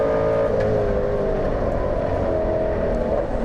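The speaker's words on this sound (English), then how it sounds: "right up behind Lee Molden is the Beetle. And, well, he's pushing hard." Classic race cars, including a Volkswagen Beetle pushing hard behind the leader, race on a track in a Power Series round, with a loud, steady engine drone close by and no talk.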